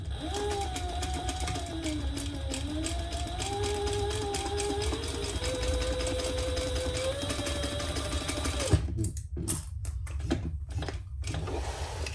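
A sewing machine stitches the boxed corners of a crossbody bag with a rapid, steady whirring hum whose pitch shifts slightly, then stops, followed by a few short bursts of stitching and handling noise.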